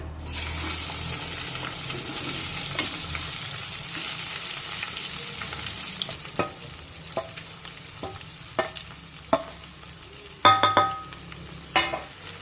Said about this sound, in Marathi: त्यानंतर ही भेंडी यामध्ये टाकूया।